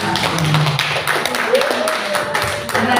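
A room of seated teachers clap in a rhythmic group routine at a training workshop, with sharp taps running throughout, mixed with chatter and a voice talking over it.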